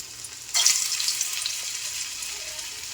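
Cauliflower koftas dropped into hot oil over a low gas flame set off a sudden broadband sizzle that stays steady and close, a continuous crackling fry with no talking.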